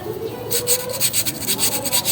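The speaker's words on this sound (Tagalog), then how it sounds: "Nilihain nyo lang yung matalas." Metal file rasping a sharp edge on a scooter CVT part, from an Easyride F.I 150, in short rhythmic strokes from about half a second on, close and fairly loud with no talk.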